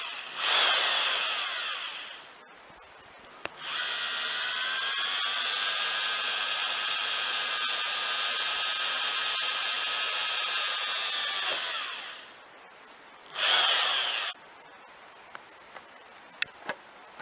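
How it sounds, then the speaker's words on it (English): A power drill drilling rivet holes in a lid whirs in a short burst, then runs steadily for several seconds, stops, and gives one more brief spin; faint clicks follow. "to drill and rivet the lid in place."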